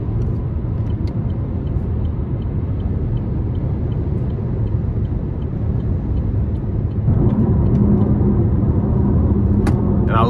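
Cabin of a 2024 Chevrolet Malibu 1LT 1.5T on the move fills with a steady low road rumble and light wind noise, a constant hum that grows slightly louder toward the end.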